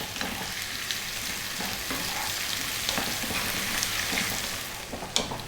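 Whole fresh chilies fry in a pan on medium heat for a mushroom potato curry, giving a steady soft sizzle with occasional faint stirring clicks and a sharper knock near the end, no voices.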